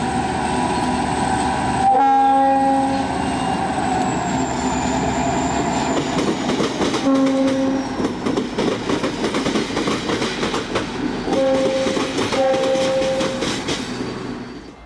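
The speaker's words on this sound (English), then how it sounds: "you could still get views of trains that were very much classic SP, with solid sets of scarlet and gray tunnel motors on the trains" A Southern Pacific freight train led by scarlet and gray tunnel motor locomotives rumbles past close by, its horn sounding in several long blasts over steady wheel and car noise.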